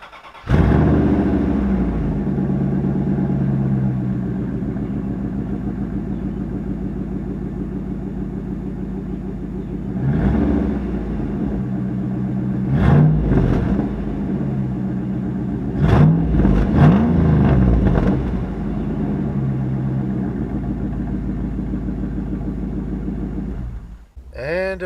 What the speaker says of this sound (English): let me give you a cold start on this thing